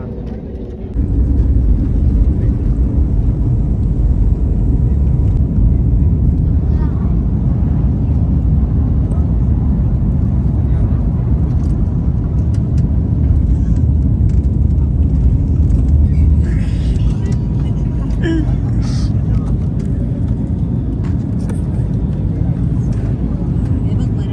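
Airplane cabin before takeoff on a trip to the airport, with a continuous loud low engine rumble and hum throughout and occasional faint clicks and knocks in the cabin.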